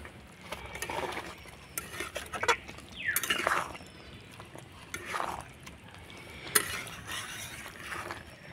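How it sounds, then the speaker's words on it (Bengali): A spoon stirs potato curry in a pan with garam masala and chopped coriander, giving scattered scraping and clinking strokes over a low kitchen background, with a few louder scrapes and no talking. "দিয়ে একটুখানি নাড়াচাড়া করে নেব।"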